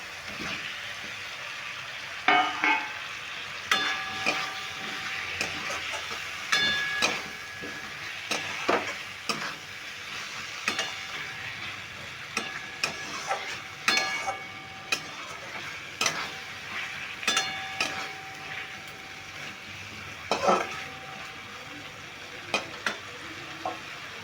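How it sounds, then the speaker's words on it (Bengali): Spice paste and soaked potatoes frying in a pan for an egg and potato curry, with a steady sizzle broken by frequent close scraping and clattering strokes of a spoon stirring. "জল দিয়ে আমি মশলাটাকে একটু কষিয়ে নিচ্ছি মশলাটা একটু কষিয়ে নিলাম এবার দিয়ে দিচ্ছি ভিজে রাখা আলুগুলো"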